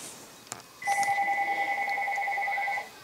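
A phone rings with one steady electronic two-tone ring lasting about two seconds, close and clear in a quiet room.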